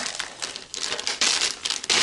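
A plastic Ziploc storage bag crinkles steadily as it is squeezed and worked to push the air out, with bursts of crackling close up and no voices.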